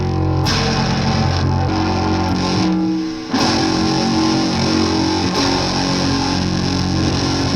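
Heavily distorted electric guitar chords ring out thick and saturated, sustaining loudly with a brief dip before the next chord hits.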